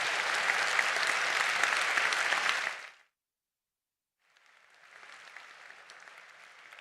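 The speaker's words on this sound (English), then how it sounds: "A round of applause for the panel." Audience applause for a panel at the close of a conference plenary in Birmingham, loud dense clapping that stops abruptly, falls silent for about a second, then resumes more softly.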